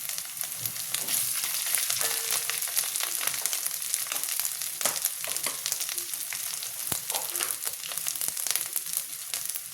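Ginger paste frying in a pan for mutton curry, a constant crackling sizzle with sharp pops and spatters, close and steady throughout, no voices.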